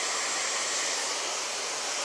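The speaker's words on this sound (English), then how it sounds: "Just put my hairdryer on completely cool now" A handheld hair dryer on its cool setting blows steadily, a constant close broadband whoosh with no breaks or talking.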